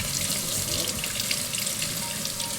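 Water runs steadily from a kitchen tap while hands are rinsed, a continuous close hiss and splash with no pauses.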